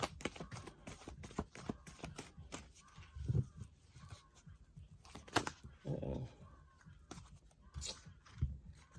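Tarot cards being shuffled and drawn in a quiet room, soft papery riffles and slaps in irregular bursts, close and fairly faint.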